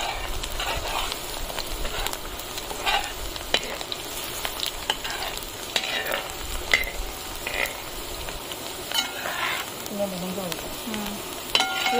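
Ginger and chilies sizzle and crackle in hot oil in a pan, with steady frying noise, repeated scraping stir strokes and occasional sharp clinks of a spoon against the pan, close and continuous.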